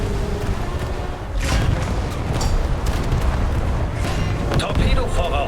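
A torpedo exploding in a naval battle game involving the German battleship Scharnhorst, heavy continuous booming rumble with dense low roar and several sharper bursts layered over it.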